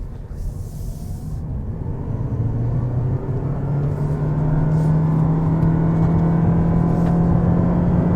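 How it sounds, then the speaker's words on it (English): A 2023 Toyota Prius pulls away in electric mode, a rising whir and road rumble with a climbing tone that grows steadily louder as it gains speed. "setting off in electric mode here"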